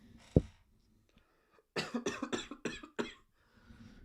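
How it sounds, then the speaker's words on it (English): A person on a livestream coughs, one sharp cough followed by a quick run of five or six harsh, rasping coughs close to the microphone. "then all of a sudden I get on stream and I'm just coughing away"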